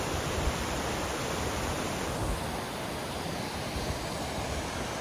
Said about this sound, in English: Plenty of water, snow melt in the river.